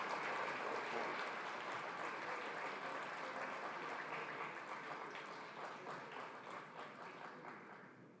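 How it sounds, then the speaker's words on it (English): A conference audience breaks into applause, a broad, even wash of many clapping hands that holds strong, then slowly thins and fades toward the end. "So can we please give a round of applause?"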